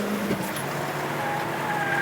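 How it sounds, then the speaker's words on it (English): Tyres of a Peugeot squealing and skidding as the car slides its rear out on a race track, a continuous loud screech with engine roar underneath for about two seconds. "See, the back of his car is sliding out so much."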